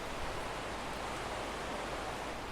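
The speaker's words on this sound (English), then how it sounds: "And the river's really high today, so that's why it sounds so angry and a little bit like white noise." The River Aire in North Leeds runs high and fast, a dense, even roar close by like steady white noise, with no breaks and no voices.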